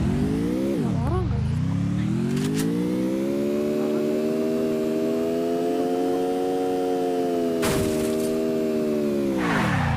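A car engine drones steadily inside the Free Fire video game, rising and falling with acceleration, with brief cracking impacts and a couple of sharp bursts layered over the continuous hum.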